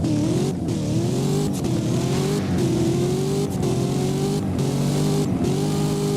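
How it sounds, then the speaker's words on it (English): A 2019 Chevrolet Corvette ZR1 in the Driving Empire video game accelerates hard, its engine revving up through several gear shifts in a rising, rhythmic pattern, loud and close, with no voices. "let's actually hear how it sounds when you accelerate."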